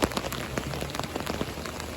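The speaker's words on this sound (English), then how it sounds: "The rain's going to mess up the ripples." Steady rain pattering onto an outdoor pond, a dense continuous hiss of drops on the water with scattered louder splashes, close and fairly loud, no talking.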